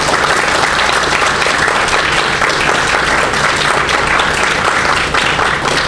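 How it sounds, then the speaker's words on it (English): An audience at a candidate fireside chat at Hawaii Pacific University breaks into dense, sustained applause, many hands clapping at once at a steady, loud level from start to finish with no voices rising above it. "you can give up a round of applause"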